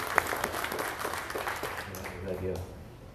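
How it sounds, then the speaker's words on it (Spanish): Congregation at a Tuesday Easter-season Mass applauding for Melesio, a steady dense patter of clapping through the whole moment with a voice speaking over it near the end. "Vamos a dar otro aplauso a Melesio"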